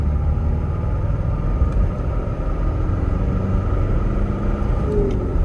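A 1995 Toyota Hilux Surf pulling away from a full stop and accelerating up through first, second and third gears, a steady loud engine rumble heard from inside the cabin with no clear talking.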